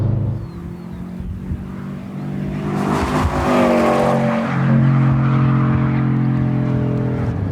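A 2017 Subaru WRX STI engine revs hard while driving, its loud, close growl climbing in pitch through the gears, with a brief tire scrub in the middle.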